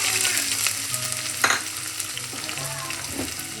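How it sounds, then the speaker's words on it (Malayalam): Crushed ginger and garlic sizzle in hot frying oil with fenugreek powder for a Kerala coconut fish curry, a close, steady crackling hiss with a few stirring scrapes and no talk. "അതിലേക്ക് ഇഞ്ചി വെളുത്തുള്ളി ചതച്ച് ചേർക്കാം."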